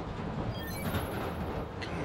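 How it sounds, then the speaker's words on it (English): A train passing in the video game Spider-Man Miles Morales, a continuous broad rumble and rushing roar that stays loud and steady throughout, with no voices. "Need to wait for the train to come by."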